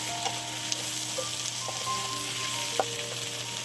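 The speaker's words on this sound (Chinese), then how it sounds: "将所有食材再翻炒一下，加入青龙椒跟红辣椒" Twice-cooked pork belly stir-fries in a hot wok with green and red chilies, a dense, continuous sizzle with occasional clinks and scrapes of the spatula, close and steady with no talk.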